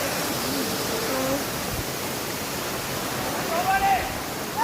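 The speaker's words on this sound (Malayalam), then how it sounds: "ഇത് വെള്ളച്ചാട്ടത്തിന് ഫ്രണ്ടിലുള്ള അരുവിയാണ്" A stream flows in front of the Manpilve waterfall, a steady broadband rush of water that holds at even loudness throughout, with faint voices or birdlike tones drifting through the background.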